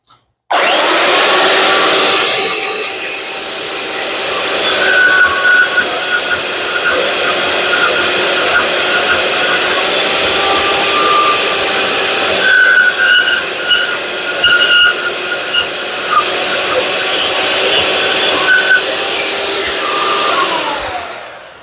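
A bandsaw cuts through a metal part in an engine bay workshop, giving a steady loud grinding whine that runs continuously for about twenty seconds with faint squealing tones, then winds down at the end.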